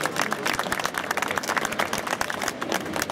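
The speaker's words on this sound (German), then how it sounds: "das ist doch für die beiden Jungs ein Applaus wert" Audience applause for two young apprentices who built a custom Harley-Davidson V-Rod motorcycle over three days at a live customizing event, a dense, steady patter of many hands clapping throughout, with some crowd noise mixed in.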